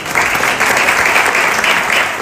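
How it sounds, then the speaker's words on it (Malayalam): A hall audience at a ceremony honoring twelfth-grade achievers breaks into steady, dense applause, loud and continuous for a couple of seconds with no voices on top. "ഒരു നല്ല കൈയടിയോടെ"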